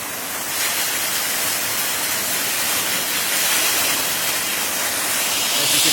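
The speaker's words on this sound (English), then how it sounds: "Thousands of gallons of water are going to fill up in these buckets." Water rushes loudly and steadily into the buckets of the waterwheel at Hanford Mills, a dense, hissing roar that builds slightly toward the end with no talking.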